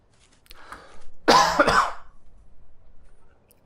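A person coughs a few times up close, a harsh burst in the middle with smaller throat sounds around it, then quiet.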